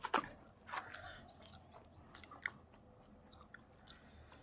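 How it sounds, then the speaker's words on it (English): Toasted bread being chewed up close outdoors by a lake, a few crisp crunchy bites at the start, then quieter chewing, with birds chirping in the background. "There is a really nice crunch to this bread."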